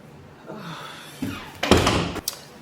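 A home door swings shut with a solid thump and latch click, preceded by faint shuffling and followed by a short rattle, close by indoors.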